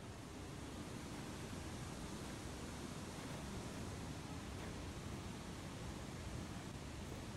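An even, unbroken hiss of a waterfall in the video game Techtonica, soft and steady throughout with no other sounds or speech over it.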